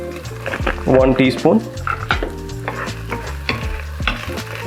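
Garlic and red chili flakes frying in a pan with oil, a steady sizzle under a clear speaking voice, with short stirring scrapes and clinks of a utensil scattered through.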